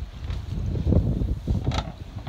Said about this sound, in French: ça souffle en rafale.